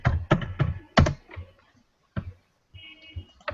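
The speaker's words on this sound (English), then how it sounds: "someone's typing away." Typing on a computer keyboard during an online call, irregular bursts of sharp clicks and taps close to the microphone, clustered at first, then sparser with short pauses between keystrokes.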